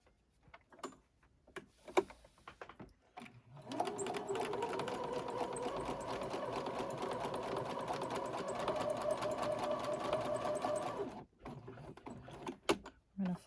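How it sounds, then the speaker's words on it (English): Home sewing machine stitching the shoulder seams of a newborn-sized elf tunic, a steady mechanical whir running for several seconds between quieter handling noises before and after. "Now we're going to stitch the shoulders."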